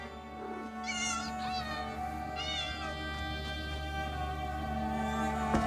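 Pet cat meowing in the game Elder Scrolls Online, two or three drawn-out mews heard faintly over a steady humming game soundscape with background music.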